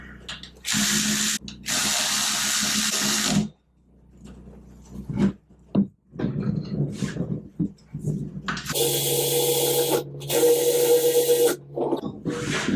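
An electric ratchet tightens the brake caliper bolts on a 2015 Yamaha FZ09 motorcycle in two loud, close motor whirrs of a few seconds each, separated by clicks and handling noises.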